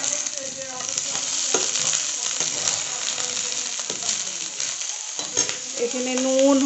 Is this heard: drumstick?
yes